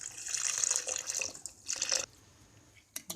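Milk poured into a jug for a mango shake, a soft splashing stream over about two seconds that stops, followed by a couple of faint clinks, quiet and close.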